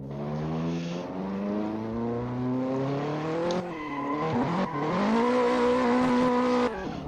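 A race car in Assetto Corsa, driven with a Thrustmaster TX wheel, revs up steadily, shifts gears and briefly squeals its tires, then accelerates hard with a loud, close engine drone.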